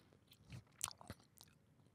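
Gum being chewed close up: a few soft, wet smacks and clicks in an irregular rhythm, quiet and sparse, with no talking.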